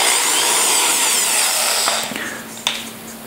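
A power drill whirs at high speed, spinning a length of 16 gauge wire clamped in its chuck, loud and continuous before easing down with a couple of small knocks near the end.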